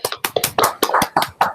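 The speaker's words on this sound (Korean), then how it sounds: "네, 박수 한번 부탁합니다." A small group at a pastors' study meeting gives a short burst of applause, the sharp claps close and irregular, with no talk over them.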